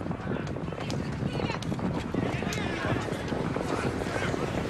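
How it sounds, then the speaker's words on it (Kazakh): Horses galloping during a kokpar match, their hoofbeats a dense, continuous drumming under a commentator's steady talk and crowd noise. "Аттың екпінімен Мейрамбек көтерген Серке"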